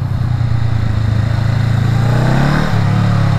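Honda CMX500 chopper motorcycle riding on a country road, its steady close engine drone and wind rumble running continuously, with a slight pitch shift partway through as it changes speed.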